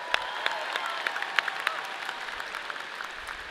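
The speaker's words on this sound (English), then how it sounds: "Can we give her a round of applause as well?" An audience at a university convocation applauds in a steady wash of clapping with a few sharper claps standing out, moderately distant and fairly quiet.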